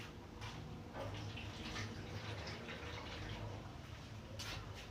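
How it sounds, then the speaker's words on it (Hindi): Soaked, drained rice tipped into a cooking pot for potato tehri, a steady wet pouring and rushing sound with some sloshing water, continuous and fairly close, with no talking. "अब इसका पानी ड्रेन करके मैं ये चावल इसमें डाल रही हूँ"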